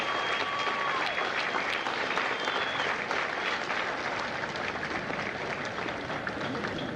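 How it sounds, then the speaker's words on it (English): Sustained crowd applause at a Marine Corps recruit graduation ceremony at MCRD San Diego, a large outdoor audience clapping steadily and loudly throughout, with faint cheers mixed in. "Ladies and gentlemen, a round of applause for the families of Hotel Hell."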